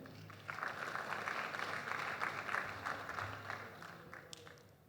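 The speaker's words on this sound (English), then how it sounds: "give yourself a round of applause" Audience applause at a cooperative awards ceremony swells up after a quiet opening and carries on at moderate loudness, a soft, fairly distant wash of clapping with a few sharper claps near the end.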